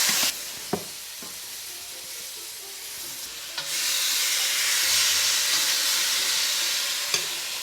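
Paneer slabs sear in a hot, dry pan with no oil, giving off a steady, loud sizzle and hiss that swells partway through, broken by a few sharp clicks and knocks.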